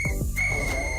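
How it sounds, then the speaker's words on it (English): A sharp, steady whistle tone sounds at close range, sustained for most of a second over low background noise. "Blow the whistle."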